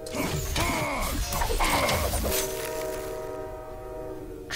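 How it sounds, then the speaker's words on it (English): A passing train sounds its horn in long sustained blasts over rumbling wheels and car clatter, loud and close, then the horn fades as the train moves off. "Train, you just went by. Literally, it just went by."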